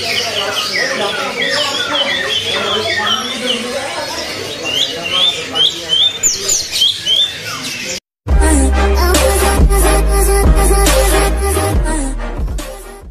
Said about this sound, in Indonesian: masuk ya burung Mozambik Afrika nih